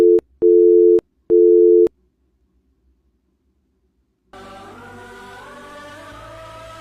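Phone busy tone after a call is cut: three loud, steady beeps close on the line, followed by silence and then a soft musical backing.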